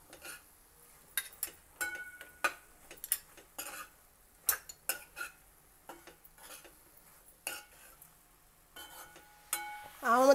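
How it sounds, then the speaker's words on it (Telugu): A spoon stirs jackfruit husk curry with mustard paste in a pan, giving scattered light clinks and scrapes against the metal in an uneven rhythm, close and fairly quiet, with a faint sizzle beneath. "ఆవ ముద్ద వేసాక కలిపాము కదా"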